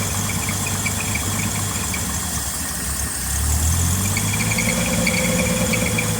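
A car engine idles steadily and close, a low rumbling drone with faint knocking, rising slightly in pitch and level midway as it runs.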